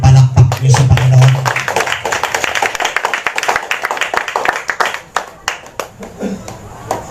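Church congregation clapping for the Lord during a Holy Week healing service, a sustained patter of claps that thins toward the end, with a voice speaking at the start.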